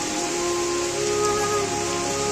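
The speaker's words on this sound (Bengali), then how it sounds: "এখন বৃষ্টি হইতেছে" Rain falls steadily during the 2024 flood around a home, a dense, even hiss with no break and no voices.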